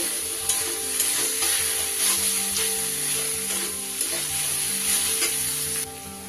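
Grated kohlrabi sizzles steadily in a hot pan while being stirred, a dense continuous frying hiss with light scraping strokes of the spatula and no talking.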